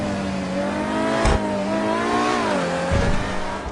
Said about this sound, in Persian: حالا بریم یه دوری هم باهاش بزنیم ببینیم سرعتش چه جوریه